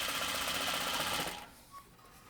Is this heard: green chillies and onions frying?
no